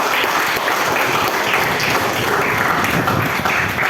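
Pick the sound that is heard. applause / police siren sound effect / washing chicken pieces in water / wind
applause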